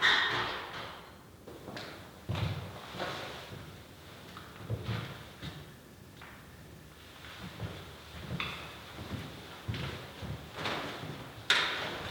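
Door being worked on at a campsite during a cycling tour through Croatia, giving a series of soft thumps, taps and scraping knocks at irregular intervals over quiet background.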